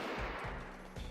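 Gunfire in the colony-sim game Rimworld: several sharp, close shots in a quick irregular run, loud and alone with no talk.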